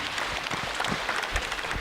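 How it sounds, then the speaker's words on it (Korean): Audience applause at a Buddhist university alumni dharma gathering, a steady wash of many hands clapping that holds evenly through the short stretch with no voices over it. "다시 한번 박수 한번 주세요"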